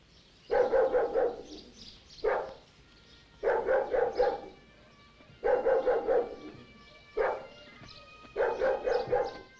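Police search dogs from the Grampian force bark in repeated bursts of several yaps each, loud and close, with short quiet gaps between volleys and occasional whimpering yelps.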